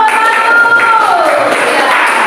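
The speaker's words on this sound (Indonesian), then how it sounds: "tepuk tangan untuk kelompok" A classroom group receives applause, a dense wash of clapping from many hands that stays steady and fairly loud for the whole short stretch.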